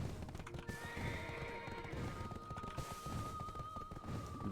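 A horse in the video game Black Desert Online whinnies loudly with clip-clopping hooves, a single sustained neigh over thudding steps and background game noise.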